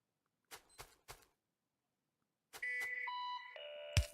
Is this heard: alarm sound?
yes